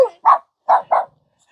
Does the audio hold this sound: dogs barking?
yes